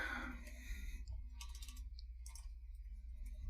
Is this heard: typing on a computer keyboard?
yes